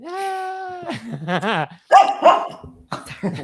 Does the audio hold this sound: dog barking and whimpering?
yes